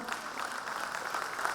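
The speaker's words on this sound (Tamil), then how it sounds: "இந்த அரங்கத்திலே எங்கே பலத்த கரகோஷம்." Steady, dense applause from an audience filling an auditorium during an honoring ceremony at a welcome dance event, sustained clapping throughout without pauses.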